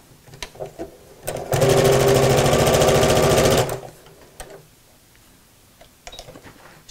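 A sewing machine runs a burst of about two seconds with rapid even stitching while reverse stitching a tote bag seam, then stops; faint handling noises come before and after.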